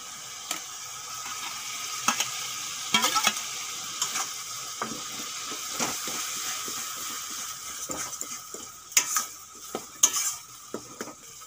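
Raw banana peel paste frying in a pan with salt and turmeric, a quiet sizzle under frequent spatula scrapes and metallic clinks of utensil on pan; no voices present.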